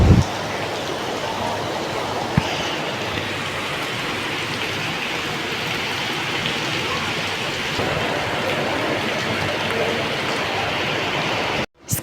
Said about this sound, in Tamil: இன்றைக்கி காலையில் ஆரம்பித்த மழை விட்டு விட்டு இந்த மாதிரி பெஞ்சிக்கிட்டே தான் இருக்குது